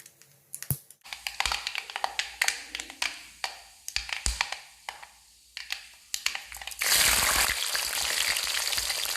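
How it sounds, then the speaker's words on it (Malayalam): Mustard seeds and fenugreek pop and crackle in hot coconut oil, a run of sharp irregular snaps that ends in a steady loud sizzle. "വറവിനായിട്ട് ഒരു പാത്രത്തിലേക്ക് കുറച്ച് വെളിച്ചെണ്ണ ഒഴിച്ചെടുക്കാം. കടുക് പൊട്ടിച്ചിട്ട് അതിലേക്ക് കുറച്ച് ഉലുവ ചേർത്ത് കൊടുക്കാം."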